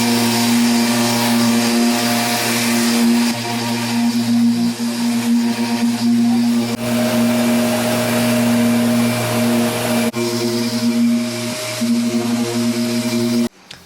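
A machine sander with a 600 grit pad hums continuously against a Honda Type R headlight lens, a loud steady motor drone that shifts slightly in pitch and cuts off abruptly at the end.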